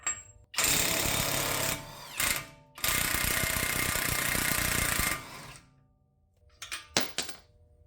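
Socket wrench with a 1.25-inch socket breaking loose the axle nut on a 2011-2019 Ford Explorer, heard as loud mechanical rattling bursts with short pauses, then a few sharp clanks and clicks at the end.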